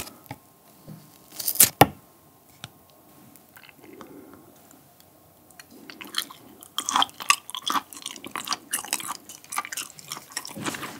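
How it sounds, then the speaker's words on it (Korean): Thick slabs of raw beef (mungtigi) are sliced with a knife, giving close, wet and sticky cutting sounds in irregular bursts with sharp clicks and short pauses between strokes. "오랜만에 뭉티기 자르는 소리 한번 들어보시죠."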